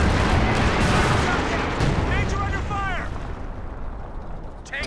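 Artillery fire in the strategy game Company of Heroes 2 during a 2v2 match: dense booming and crackling battle noise rolls continuously, with shell-whistle sweeps in the middle, over a busy mix that fades somewhat toward the end.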